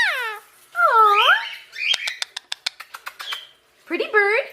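A pet parrot calling close by, with rising and falling whistled notes, then a rapid burst of sharp clicks, then more whistles, all loud and clear and mostly alone.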